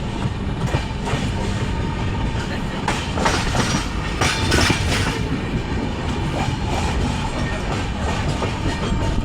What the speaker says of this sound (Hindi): फिर चक्रधरपुर से निकलने के बाद ट्रेन अभी भागेगी।